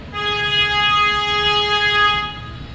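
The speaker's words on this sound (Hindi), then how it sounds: "इतने सारे हॉर्न्स बज रहे हैं" A car horn honks outside during home cooking, one long sustained blare lasting over two seconds, loud and steady before fading out.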